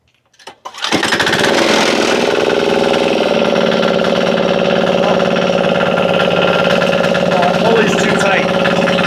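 A diesel engine swapped into a Lawn Boy mower cranks and catches after about a second, then runs loud and steady at close range with a dense, chattering idle throughout.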